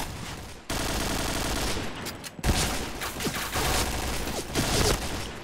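Rapid automatic gunfire bursts in the online first-person shooter Point Blank, loud, dense and near, breaking off briefly before another volley of shots with sharp individual cracks.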